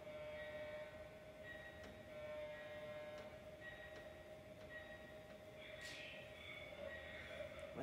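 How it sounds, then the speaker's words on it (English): A steady low rumble with faint rhythmic clacks suggests a train rolling by at a distance, a brief whistle-like tone rising partway through. "There goes another train."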